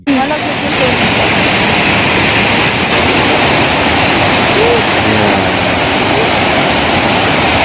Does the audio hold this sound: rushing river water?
yes